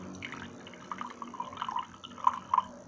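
Water poured slowly into a glass gives a quiet, soft trickle with a few brighter drips and splashes toward the end, heard alone without talk.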